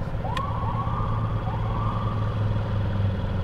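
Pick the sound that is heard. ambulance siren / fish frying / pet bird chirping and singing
ambulance siren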